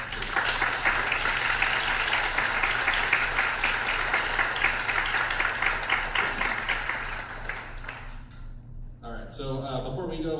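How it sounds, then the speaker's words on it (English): An audience at a Santa Ana College Concert Band performance applauds the musicians in a sustained, full wash of clapping that fades out after several seconds, followed by a voice beginning to speak. "give them one more round of applause"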